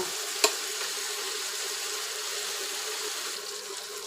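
Katla fish and spices sizzle steadily over medium heat in a hot frying pan, with one brief metallic clink of stirring near the start.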